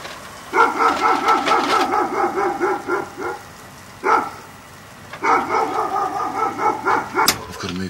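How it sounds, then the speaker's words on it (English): Several guard dogs bark in rapid bursts nearby, two long volleys separated by a short pause, with a single bark between them. "the dogs are waking up"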